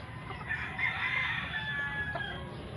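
Chickens and a rooster on a weedy, overgrown farm plot, the rooster's crowing carrying over steady clucking and a constant low background hum, with no talk.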